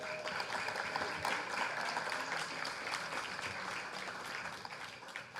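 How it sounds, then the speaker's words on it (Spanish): Audience applause for speakers at a literary talk on novel writing, dense sustained clapping from a full room that carries evenly from start to finish. "Un aplauso, por favor, para ellos."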